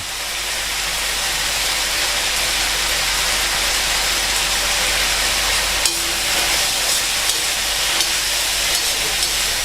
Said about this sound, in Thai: เนื้อปลากระพง ที่เราทอดไว้นะครับ ใส่ลงไปแล้วผัดให้เข้ากัน